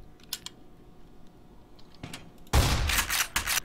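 Gunfire in the video game Black Mesa: Source on PC, a sudden loud burst of shots near the end after quieter clicks and faint game sounds.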